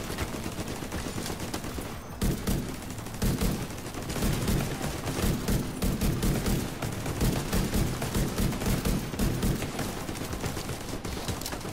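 Rapid bursts of gunfire in the video game Tom Clancy's The Division 2 crackle almost without pause, several weapons firing in sharp volleys, loud and dense, with no talking.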